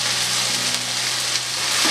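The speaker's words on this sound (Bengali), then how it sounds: "ভালো করে মশলাগুলো ভেজে নেব" Spices with turmeric, salt and slit green chillies sizzling in hot oil in a pan for amudi fish curry, a steady close crackling fry with no voices.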